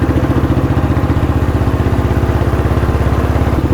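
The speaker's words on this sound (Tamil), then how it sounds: "ஸோ நம்ம இப்போ நல்லா ஸ்பீடாகவும் போய் பார்ப்போம் வெஹிக்கிள் வந்து எப்படி சவுண்ட் கேட்குது" A restored 1976 Royal Enfield motorcycle engine while riding, with a loud, close, steady thumping beat pulsing rapidly and evenly throughout, with no voices.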